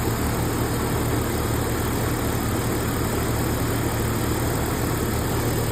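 A Jeep engine idles just after new spark plugs were fitted, giving a steady, even hum with a low rumble and no choppiness or misfire, loud and close with no talking.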